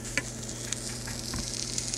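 Scrambled eggs cooking in a pan and stirred with a plastic spoon, giving a steady close sizzle with a few soft scraping touches.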